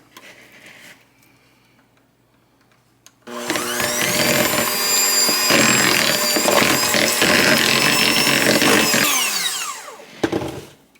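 An electric mixer creams room-temperature cream cheese for cupcake frosting, starting abruptly after a quiet moment and running as a loud, steady whirring drone for several seconds before cutting off.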